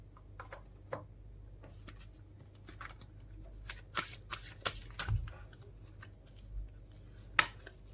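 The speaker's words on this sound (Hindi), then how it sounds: "चार कार्ड मैं इसमें से निकाल लेती हूँ।" Tarot cards being shuffled and drawn from a deck, a run of soft papery riffles and flicks with a few sharper snaps, close and fairly quiet with no talk.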